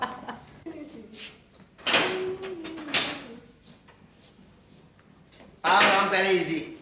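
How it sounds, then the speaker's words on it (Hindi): A door opening indoors in a household setting, with a couple of sharp clunks and creaks and a louder knock or rattle near the end, mixed among people talking. "मैं खोल देता हूँ दरवाजा"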